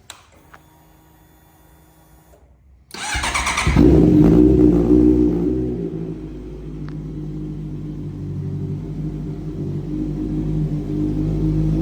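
A 2016 Honda CBR650F motorcycle with a loud aftermarket exhaust sits quiet, then fires up abruptly and revs hard once before settling into a deep, steady rumbling idle, loud and close.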